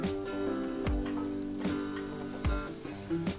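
Peanuts roasting in oil in a village kitchen pan, a steady close sizzle and fry with occasional stirring scrapes, no talk.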